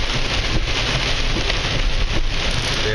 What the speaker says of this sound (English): it's a very, very rainy day.